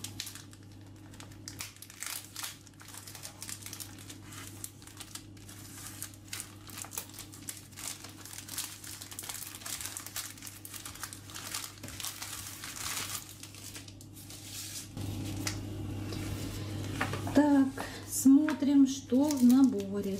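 Plastic packaging of an embroidery needle set crinkles and crackles as it is opened, close and fairly quiet, in scattered bursts over a steady background hum, getting louder near the end as someone speaks.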